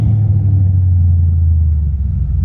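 A custom Crown Victoria with a modified engine, riding on 28-inch wheels, gives a deep, loud, steady rev and rumble, close and continuous.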